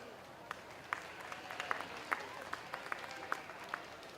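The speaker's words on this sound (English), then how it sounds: "let's give them one more round of applause." Faint, sparse applause at a county fair 4-H/FFA market lamb show, scattered distinct claps over a low crowd murmur in a show ring, distant and quiet.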